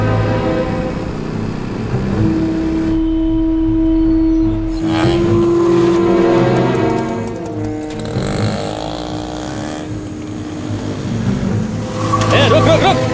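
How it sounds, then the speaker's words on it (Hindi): Motorbikes roar in a chase as four thugs pursue on bikes in a Hindi-dubbed action thriller scene, the engine noise blending with a sustained musical tone and scattered voices. "चार गुंडे बाइक पे तेरा पीछा कर रहे हैं।"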